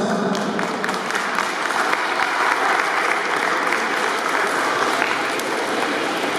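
Sustained applause from the audience and competitors fills a school gymnasium at the "Sprawny Miś 2024" sports event in Mogilno, steady and dense clapping throughout with no pauses.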